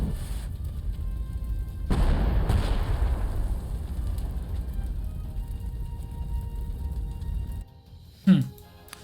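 Artillery fire in the strategy video game Panzer Corps 2: a broad, rumbling barrage that swells suddenly, rolls on for several seconds and cuts off, then one short sharp burst near the end.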